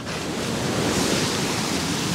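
Ocean surf crashing onto a rocky shore at close range, a loud continuous broadband roar of breaking water with wind, steady and full throughout with no voices.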